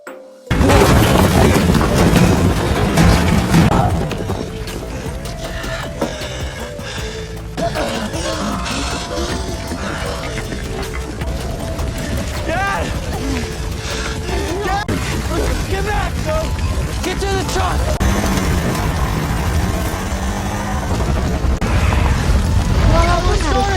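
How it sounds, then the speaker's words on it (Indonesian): A loud booming blast of a house exploding in a film opens, then a long roaring rumble of fire and debris continues under dramatic music and a voice. "meledakkan rumah dan membakar semua makhluk yang mengincar mereka"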